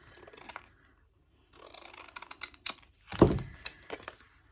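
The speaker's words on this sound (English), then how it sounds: "I'm just going to trim this piece off here." Scissors trim a paper piece for a junk journal pocket, with a few close, quiet snips and rustles of paper, ending in a sharper crunching cut and soft handling sounds.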